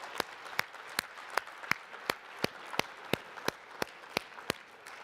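Sparse, evenly spaced hand claps at a real estate sales conference, a few people clapping in a steady rhythm rather than a full crowd, fairly quiet and distant.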